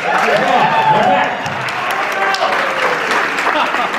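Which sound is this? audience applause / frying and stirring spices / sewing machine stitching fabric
audience applause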